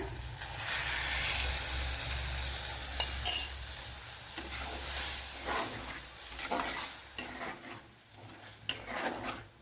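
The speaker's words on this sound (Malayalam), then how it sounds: "ഇനി ഇതിലേക്ക് നമ്മൾ കലക്കി വെച്ച മസാല ചേർത്ത് കൊടുക്കാം" Mixed masala paste added to a hot pan for papaya varuval sizzles and bubbles steadily, with occasional scraping stirs close by, moderately quiet.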